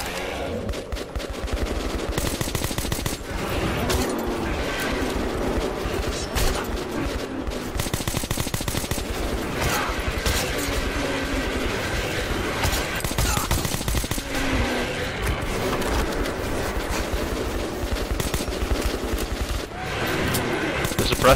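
Suppressed weapon fire in Metro 2033, a steady, dense stream of rapid shots and clatter running without pause throughout, loud and close, with game voices mixed underneath.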